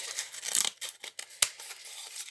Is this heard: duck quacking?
no